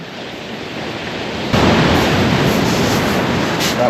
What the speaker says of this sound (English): That water's coming right just to in front of the rod here. You might just be able to see it lapping up.